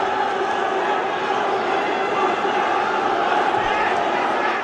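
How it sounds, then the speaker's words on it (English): Dense, steady roar of a mixed martial arts crowd at an MFN 14 event in India, cheering on fighter Chungreng Koren; a continuous wall of excited voices with no clear breaks, loud and close throughout. "The crowd going electric here, supporting Chungreng Koren."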